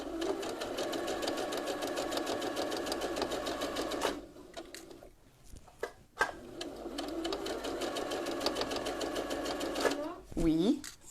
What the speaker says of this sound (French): je suis en train de coudre à 1-2 mm du bord